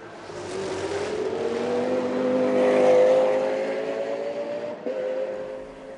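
A Lamborghini GT race car competes in an ADAC GT Masters race at the Zolder circuit, its engine droning loudly and steadily as the pitch climbs through a long pull, with a brief dip near the end.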